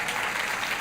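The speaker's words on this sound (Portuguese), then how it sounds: "Palmas para Jesus." Brief burst of congregational applause in a church service, a dense, steady wash of clapping heard alone.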